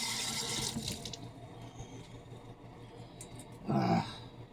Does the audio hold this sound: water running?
yes